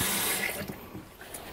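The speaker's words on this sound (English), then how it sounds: "there's an aerator installed, so that's going to aerate the water" Water streams steadily from an Empire Faucets RV bathroom faucet fitted with an aerator, a close, soft, hissing flow into the sink that tapers slightly over a brief moment, with no talk.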